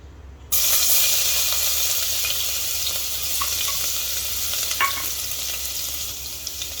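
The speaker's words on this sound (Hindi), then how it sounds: "थोड़ा सा भून लेते हैं 1 मिनट के लिए।" Crushed garlic sizzles and crackles steadily in two tablespoons of hot oil, a loud close hiss that starts suddenly and carries on with a few small pops.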